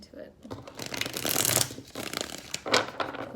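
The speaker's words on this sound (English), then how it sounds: "I like to end on a good shuffle." Tarot cards being shuffled by hand at close range, a run of crisp riffling bursts with a brief pause before a final flurry, with no one speaking.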